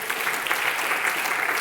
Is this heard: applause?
yes